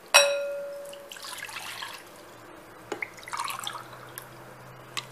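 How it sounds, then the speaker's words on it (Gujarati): Water goes into a bowl for jaggery sharbat: a bright clink on glass, then splashing pours and scattered drips close by, with quiet gaps between them. "હું અહીં અત્યારે 3 ગ્લાસ પાણી લઉં છું."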